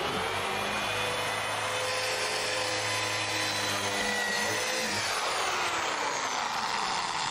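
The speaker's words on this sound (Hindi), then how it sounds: "हमें एक ड्रिल की आवश्यकता है।" A power drill bores steadily, loud and close, with a dense high whine that holds for several seconds, then the pitch slides down as it slows near the end.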